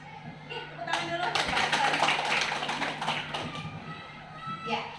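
Audience applause at a small teachers' workshop in a primary school, a burst of clapping building around the first second and fading over several seconds, with background talk.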